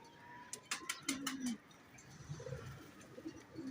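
Pet pigeons, a prized teddy-type breed, give a couple of soft low coos at close range amid faint clicks and background rustle.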